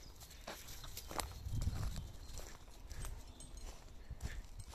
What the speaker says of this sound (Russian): Лошадь.